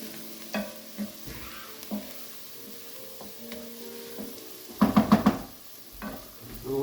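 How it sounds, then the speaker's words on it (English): Garlic cooking in a pan for lobster bisque, a soft background sizzle broken by scattered spoon stirs and a cluster of sharp metallic clanks near the end. "we're going to add our garlic to this. Cook this down just a couple of minutes"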